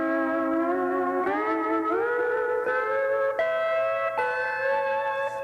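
Pedal steel guitar plays a slow melody without a volume pedal, each note starting with a sharp pluck and sliding pitch bends, clear and close with no talking.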